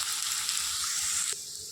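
Chopped onions sizzling in hot oil in a pan over medium heat, a loud, dense crackling hiss up close that eases abruptly to a softer sizzle near the end.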